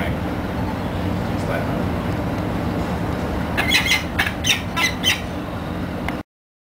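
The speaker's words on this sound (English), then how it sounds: "Falcon's right above me." A series of sharp, harsh falcon calls rings out in quick succession over a steady rumble of background noise, fairly loud and nearby.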